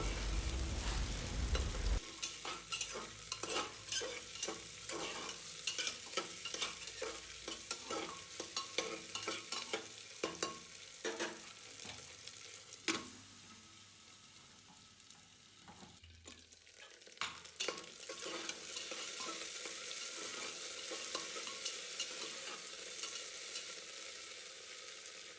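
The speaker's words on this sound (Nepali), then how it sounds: "अब आलुलाई पनि एकछिन फ्राई गर्ने" Diced potatoes fry in hot oil in a pan for a Nepali dry white peas curry, with steady sizzling and repeated scraping stirs from a spoon throughout, a brief clatter near the middle, and no talking.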